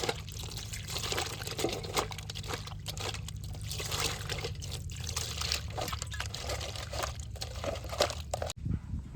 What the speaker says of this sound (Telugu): సో దీన్ని ఒకసారి మళ్ళీ శుభ్రంగా కడిగేసుకుందాం.